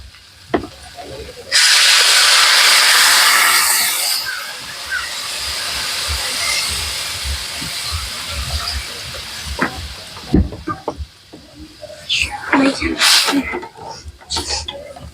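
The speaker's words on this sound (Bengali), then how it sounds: "এবার আমি জল দিয়ে দেবো" Water poured into a hot pan of fried gathi taro and long beans bursts into a loud, close hiss of sizzling steam that slowly fades over several seconds, followed by utensil clatter and a voice talking.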